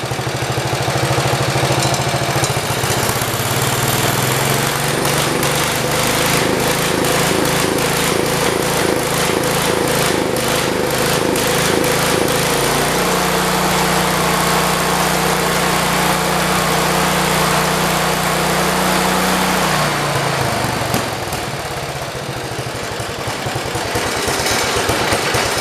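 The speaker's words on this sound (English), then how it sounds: "It's idling a lot better." A 1973 112 small engine runs steadily at idle after a carburetor adjustment, a loud continuous putter with a rhythmic low pulse whose pitch shifts a few times before it tapers near the end.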